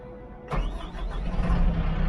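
A bulldozer engine cranks and catches about half a second in, then settles into a loud, rough low idle close by, with no talk.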